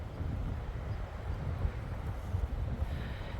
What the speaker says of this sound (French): Je sais pas si c'est le meilleur temps parce que là, ça y est, il refait du vent.